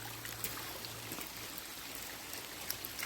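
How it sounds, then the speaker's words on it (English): Rainwater stream running outdoors on a wet hike: a steady, soft broadband rush of flowing water with faint trickling detail, even and continuous from a little distance, no voices. "There's the streams over there."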